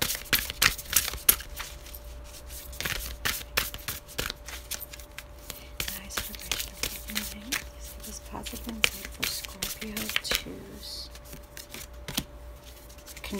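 Oracle cards for a tarot reading are shuffled and tapped in quick, uneven riffles and flicks that run throughout, close up, with some talking over them.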